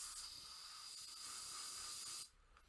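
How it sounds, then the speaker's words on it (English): Aerosol spray paint hisses steadily and close onto a Sons of Horus Land Raider tank model for Legions Imperialis, a continuous broadband spray that cuts off abruptly near the end. "I'm going to make sure that when I spray, I'm spraying away from the rest of the tank"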